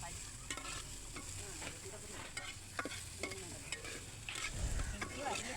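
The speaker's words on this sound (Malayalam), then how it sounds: "ഇളക്കിക്കൊണ്ടിരിക്കുകയാണ്." Onions and curry leaves frying in oil over an outdoor stove, stirred steadily, with soft sizzling and repeated scraping strokes of a spoon against the pan, and a louder burst of frying near the end.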